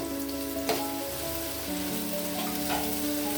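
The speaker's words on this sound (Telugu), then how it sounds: "ఆయిల్ హీట్ అయింది, ఆనియన్ వేసాను, వేగుతున్నాయి" Chopped onions and green chillies frying in hot oil, a close, continuous crackling sizzle with a few sharper pops and stirring scrapes.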